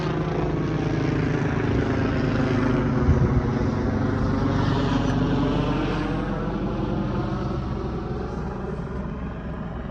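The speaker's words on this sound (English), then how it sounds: "Let's let this helicopter go by." A continuous rotor and engine drone of a helicopter passes overhead, loud and steady, slowly fading toward the end, with no talking.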